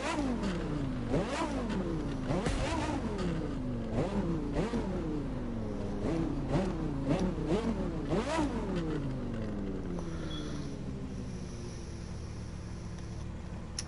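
A sports car engine in The Crew 2 racing game revs repeatedly in sharp, rhythmic bursts, each one rising and falling quickly, then settles back to a steady idle hum near the end.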